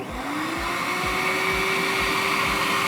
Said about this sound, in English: Now we'll go ahead and turn the vacuum on.